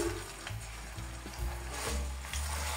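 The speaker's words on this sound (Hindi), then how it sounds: "लहसुन को थोड़ा सा मैं ब्राउन करूंगी 30 सेकंड के लिए।" Garlic browns in hot oil in a pan with a soft, steady sizzle and occasional stirring knocks, heard close by and fairly quiet, with no voices.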